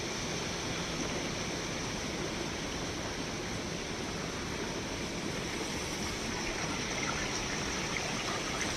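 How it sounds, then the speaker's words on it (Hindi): Neer waterfall near Brahmapuri, Rishikesh, Uttarakhand, currently flowing at low force: a steady, dense rush of falling and streaming water fills the whole stretch evenly and close by, with no voices. "ये है वाटरफॉल नंबर 1 जो बहुत अभी मतलब इसकी जो स्पीड है वो कम है।"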